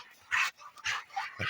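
A hunting dog barks three times in short, separated bursts, faint and somewhat distant, with no speech over it.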